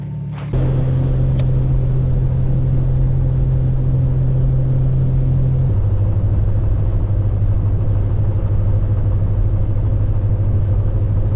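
A Jeep Cherokee XJ pulls away from a gas stop on a cross-country drive, its engine a loud, steady rumble inside the cab that drops to a lower drone after a gear change.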